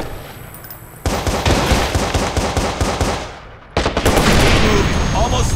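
Heavy automatic gunfire in the video game Watch Dogs, loud continuous rattling bursts with a brief lull before another volley, with voices mixed into the chaos.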